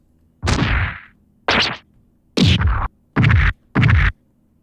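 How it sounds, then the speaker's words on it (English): Five separate swishing, scraping hits, each a short loud burst with pauses between, like game melee strike effects played one after another. "So attack sounds like this."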